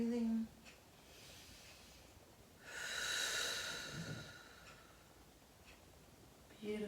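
Breathing during a stretching class: one long, soft exhale rises midway through an otherwise quiet stretch, with a few faint clicks and a short sound at the start and end.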